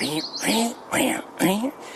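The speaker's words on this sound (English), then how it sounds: "That was a" Four quick, burry, hoarse song phrases of a scarlet tanager repeat in a steady rhythm, fairly close and clear.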